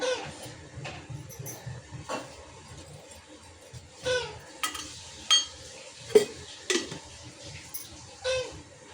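Small metal kadhai set down on a gas stove, with scattered light clinks and taps of cookware against the burner among faint background noise.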